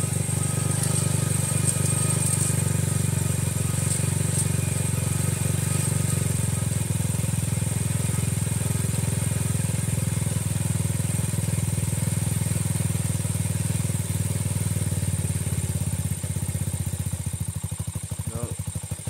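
Small Grom motorcycle engine with a newly fitted Nibbi carburetor idling high at about 3,000 rpm, a steady close-up drone with light mechanical clatter that holds throughout, no talk over it.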